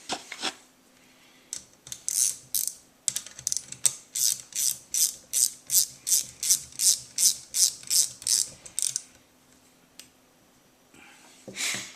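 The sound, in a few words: tightening a bolt on an Aisan carburetor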